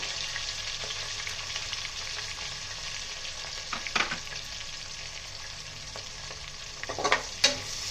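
Sliced onions frying in oil with a little salt for Guntur-style chicken biryani, a dense, continuous close sizzle with a few brief scrapes of stirring near the middle and end, no voices.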